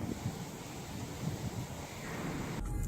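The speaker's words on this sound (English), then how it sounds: "Super windy today, supposed to thunderstorm." Strong gusty wind blowing outdoors in Miami ahead of a thunderstorm, a steady broadband roar with low buffeting rumbles against the microphone, continuous and fairly loud, with no talking.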